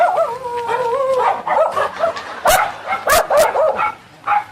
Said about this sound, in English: Yo, the dog, I see you.